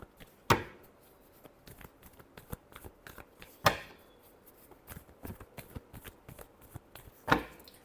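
A deck of tarot cards is shuffled by hand, with soft, irregular card flicks and taps and three sharper slaps spaced a few seconds apart. The sound is close and quiet, with no talking.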